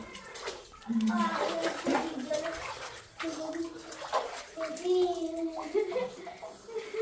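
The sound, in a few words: wading through deep water inside Mawsmai Cave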